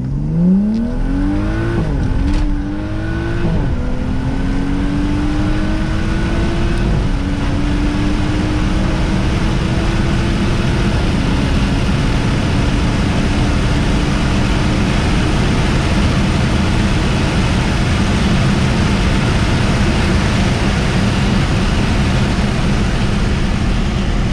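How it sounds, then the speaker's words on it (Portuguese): A BMW 335 with its catalytic converter removed and a custom downpipe accelerates hard from inside the cabin with the window open, the engine roar climbing through gears in a loud, sustained pull lasting over twenty seconds. "Deixa eu abrir o vidro aqui para vocês também perceberem o ronco."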